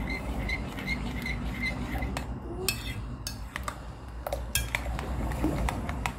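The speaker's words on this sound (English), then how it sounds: "Stir it together very well." Spoon clinking and scraping against a bowl while popsicle ice cream mixture is stirred, a steady run of light metallic taps and swishes close by, with no voices.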